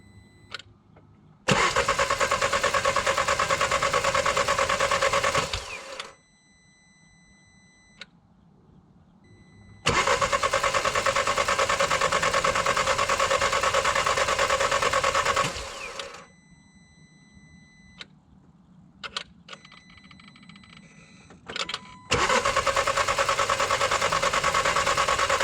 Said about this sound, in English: This will allow me to crank the engine over and build up oil pressure in the new turbo.